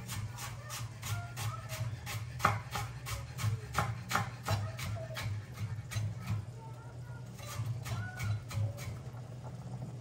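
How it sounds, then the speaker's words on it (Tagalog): A knife taps and chops through a large onion in rapid repeated strokes on a board, close and fairly quiet, over a low steady hum with a person talking now and then. "Malaki kasi yung sibuyas, so hatiin lang po natin pala"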